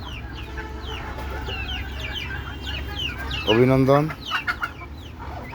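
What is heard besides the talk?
native egg-laying chickens clucking on a rooftop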